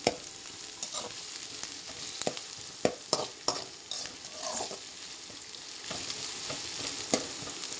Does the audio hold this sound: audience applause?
no